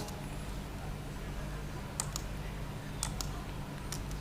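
A few sharp, faint computer keyboard clicks in pairs as a command is typed in AutoCAD, spaced over a steady low electrical hum.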